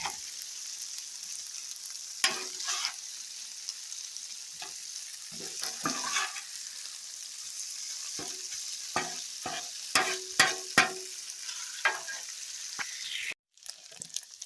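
Brats and crispy chuck mac n cheese frying on a Blackstone griddle give a steady close sizzle, broken by sharp scrapes and clicks of a spatula stirring and flipping the food.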